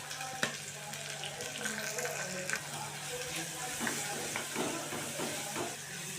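Onions, green chillies and curry leaves frying in hot oil for a gravy, giving a steady crackling sizzle with scattered pops and occasional stirring scrapes, close and continuous.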